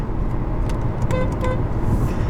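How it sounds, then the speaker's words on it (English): A short, thin 2017 Volkswagen Beetle horn toots a few quick times over a low engine rumble. "For those curious to what the horn sounds like,"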